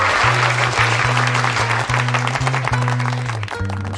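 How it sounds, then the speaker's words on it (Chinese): Lively applause from students filling a classroom during an anatomy lesson, loud, close and continuous, over a steady low hum. "来，我们给他掌声鼓励鼓励啊！"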